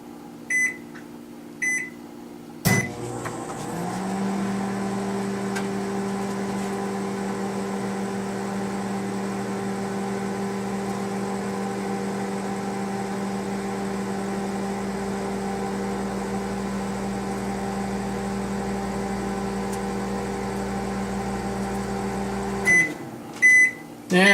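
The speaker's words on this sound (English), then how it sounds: "take it over to the microwave and heat this one up" A microwave oven heats an egg cup, its steady hum holding for about twenty seconds after a door thump and keypad beeps, then ending with a clunk and a few more beeps.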